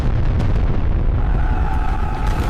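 A volcanic eruption at ancient Pompeii roars as one loud, deep, sustained blast, a heavy rumbling boom that fills the whole moment with no voices.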